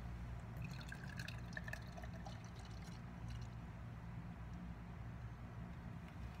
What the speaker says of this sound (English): Just give it a pour here.